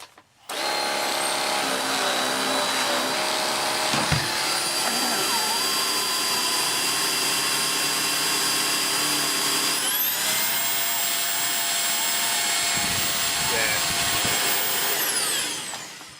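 A Beko VRT6221P vacuum cleaner, freshly serviced with its motor unit refitted, whines steadily at close range for the whole stretch, loud and continuous, with a brief thump partway and a rising pitch shift near the end.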